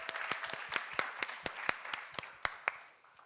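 Light applause from a small audience at a startup pitch event, a dozen or so distinct claps at an even pace, fading out, faint and slightly distant.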